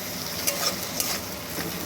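Spices for a mourola fish curry sizzle steadily in hot oil in a pan, with a couple of soft stirring scrapes over the continuous frying hiss.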